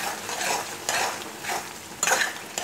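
A ridged gourd curry with red chili powder is stirred in a pan, giving four scraping sweeps of the spoon over a soft, steady sizzle of frying, close and moderately loud.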